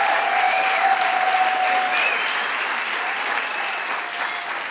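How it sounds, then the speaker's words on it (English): A crowd at a hospital announcement breaks into sustained applause for Lieutenant Governor Kathy Hochul, a broad, even roar of clapping that fades gently near the end, with faint voices underneath. "Let's give her a round of applause"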